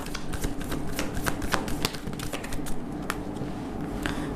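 Tarot cards being shuffled and drawn from a deck, a rapid run of crisp close card flicks and riffling clicks, steady and near, with no voices.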